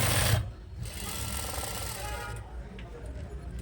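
A sewing machine runs in a steady, continuous mechanical whirr, stitching two layers of nightie fabric together. It is close and even, with someone talking over it.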